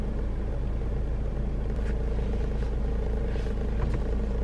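Car interior while driving, a constant low road and engine rumble with faint broadband noise and no talking.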